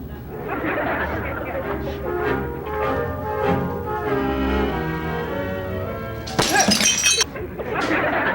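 A breakable object hits the floor and shatters in a sudden loud crash of glass near the end, following steady talking, with voices resuming right after.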